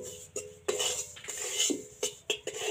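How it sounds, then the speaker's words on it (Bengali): A metal spatula scraping and clinking against a pan while a sweet gujiya sandesh mixture is stirred, a series of sharp, irregular knocks and scrapes, close and fairly loud. "তো কন্টিনিউ এইভাবে নাড়তে থাকা লাগবে।"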